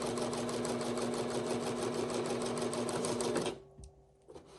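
Sewing machine stitching a fabric panel for a welding cap, a rapid steady whirring run that stops abruptly, followed by quiet handling sounds.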